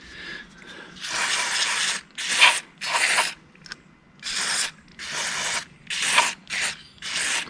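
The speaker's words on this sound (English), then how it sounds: "spray this in here like so. This deoxit will clean a lot of different things." DeoxIT contact cleaner is sprayed into the distributor of a 1972 Mercedes-Benz 280SE 4.5 in a series of about seven close, loud hissing bursts separated by short pauses.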